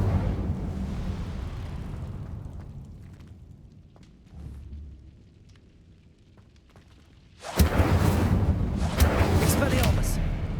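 An Incendio fire spell bursting in Hogwarts Legacy, a loud roaring blast that erupts suddenly after a quiet stretch and rumbles on for several seconds.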